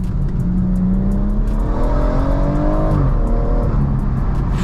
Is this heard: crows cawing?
no